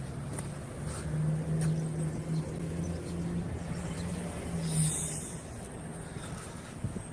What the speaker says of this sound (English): Got a car up there running.